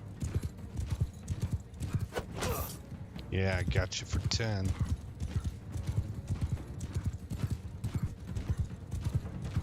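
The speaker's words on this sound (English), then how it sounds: "my horse charging at full speed" Hooves drum in rapid clip-clop rhythm as a horse gallops at full speed in Mount & Blade II: Bannerlord, with a brief whinny and someone talking over the steady pounding.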